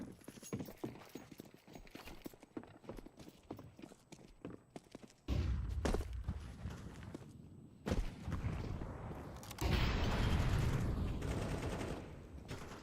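Counter-Strike match audio with bursts of gunfire and clattering footstep-like clicks, growing louder and denser in the second half as heavy rumbling fire sections take over.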